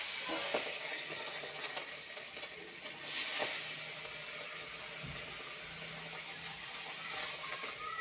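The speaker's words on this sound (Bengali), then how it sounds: "পাবদা মাছটা ভাজছি" Pabda fish frying in hot oil in a kadai, a steady close sizzle and hiss with occasional brief spatters and scrapes.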